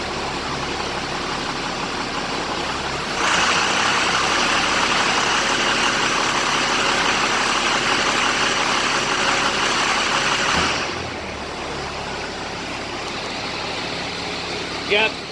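Air compressor powered by a Caterpillar 3306 diesel power pack, running steadily with a loud, constant engine drone and broadband hiss that swells for several seconds, then settles back to a lower idle; people talk over it.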